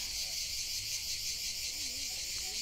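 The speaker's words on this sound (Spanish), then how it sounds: "Escuchad cómo está la chicharra." A cicada's dense, high buzzing drones on without a break, loud and steady, with faint low background noise underneath, heard while waiting for a train on a hot day.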